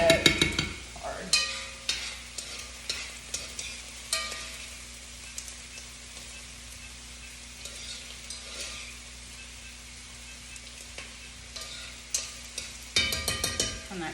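Onions frying in a pan with steady sizzling beneath sharp clinks and scrapes of a utensil stirring, clustered busily at the start and end and quieter in between, with no talking.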